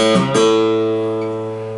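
A guitar note is plucked on a low open string, then a quick second attack as a fretted note is hammered on, ringing out and slowly fading.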